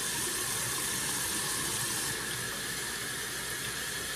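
Water pours steadily into pancake mix in a home kitchen, a continuous close, hissing splash that barely changes level throughout.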